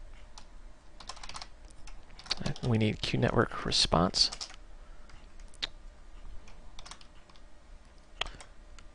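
Fingers type on a computer keyboard while someone writes code, in rapid bursts of clicking keys. Quiet talk runs over the typing.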